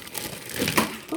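A knife cutting Brussels sprouts: a short, close series of crisp crunching and snapping sounds as the blade breaks through the firm leaves, fairly quiet, with no talking.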